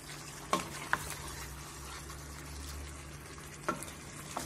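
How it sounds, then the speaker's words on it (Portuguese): Pork cheeks with onion are stirred in a pan, a soft steady sizzle with a few sharp utensil clicks against the metal, fairly quiet and without talk. "Voltar a mexer."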